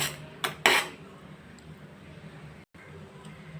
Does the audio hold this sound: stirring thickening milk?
yes